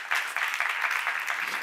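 A church congregation claps briefly during a sermon seminar. The clapping is quiet and fairly even, with soft rhythmic pulses and no voices over it.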